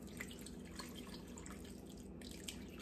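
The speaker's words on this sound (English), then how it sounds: "I'm going to pour the broth in." Broth poured into a cornbread dressing mixture gives a faint, steady trickling and splashing of liquid that runs unbroken and quiet throughout.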